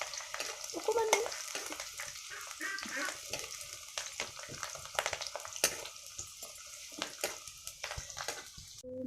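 Onions with ginger, garlic and a little red chilli frying in hot oil, a steady close sizzle broken by repeated clicks and scrapes of stirring throughout.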